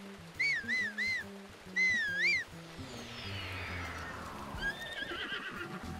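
A horse in Zelda: Breath of the Wild gives two sharp, nearby whinnies in quick succession, followed by a sweeping game sound effect and a fainter third neigh near the end.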